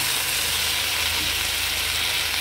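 Meat sautéing and browning in a pan, a dense, steady sizzle and crackle of frying that holds evenly throughout, close and loud.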